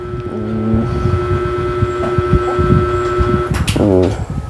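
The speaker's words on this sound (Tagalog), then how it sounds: "Pwede patayin mo natin yung electric fan mo at maingay?" A noisy electric fan runs with a steady, droning hum and whir throughout, while people talk nearby.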